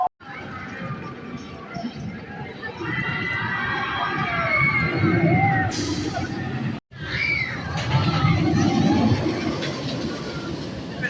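The Racer roller coaster train at Kings Dominion rumbles along its track with steady clattering and a rising mechanical whine, briefly cut off midway, then continuing loud and close.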